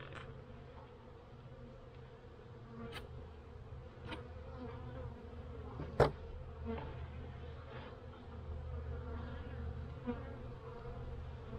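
Many honeybees in a hive hum in a steady, low drone during a winter inspection in Pennsylvania, with a few louder individual buzzes passing close by now and then.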